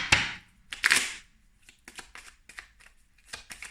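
Tarot cards are shuffled and drawn in a run of crisp riffles and short snapping flicks, close and fairly loud, separated by brief quiet gaps.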